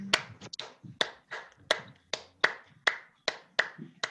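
Hand claps beating out a simple, even rhythm, about ten sharp close claps spaced roughly evenly with no talk over them.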